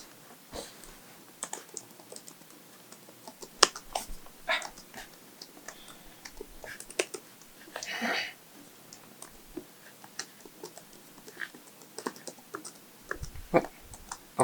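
Irregular clicking keystrokes on a Panasonic Toughbook laptop keyboard, close and fairly quiet, in scattered bursts with short pauses between them.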